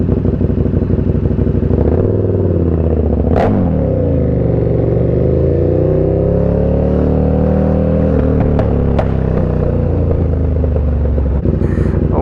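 A KTM Super Duke 1290 R with an Austin Racing V3 150mm exhaust revs and accelerates on the road, a very loud, close, raspy engine roar that rises and falls in pitch, with sharp crackles and pops between throttle changes.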